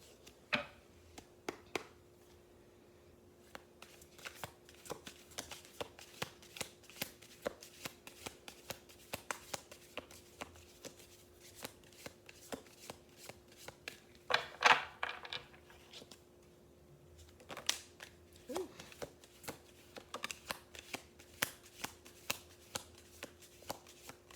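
True Emotional Oracle cards being shuffled by hand, a steady run of soft riffling and tapping bursts across the whole stretch, close and fairly quiet, with a denser flurry midway and no voices.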